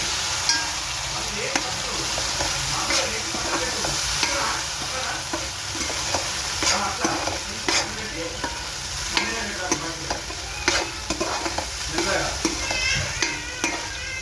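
Mushroom curry ingredients with tomatoes being stir-fried in oil, a continuous close sizzle broken by repeated scraping and clinking of a spatula against the pan.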